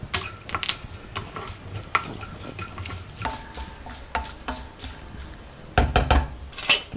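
Lemon rice tempering in a pan with curry leaves, asafoetida and a pinch of turmeric: soft sizzling under repeated scraping and stirring, close and fairly quiet, with no talk.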